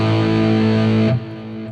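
A single guitar strum rings through an amp modeler with its output level raised, giving a loud, distorted chord that sustains for about a second before being cut off sharply.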